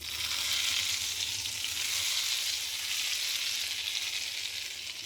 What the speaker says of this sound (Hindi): इन तीनों चीज़ों को मैं घी में डाल दूंगी।